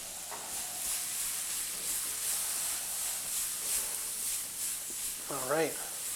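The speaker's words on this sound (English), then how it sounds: "So we're going to start to actually caramelize some of these onions in here." Onions caramelizing with sausages in brown butter in a pan, a steady soft sizzle and hiss throughout, with a brief voice near the end.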